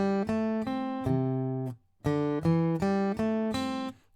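A guitar plays a riff, a clear close sequence of plucked single notes in a bouncy rhythm with a short gap partway through and nothing else heard.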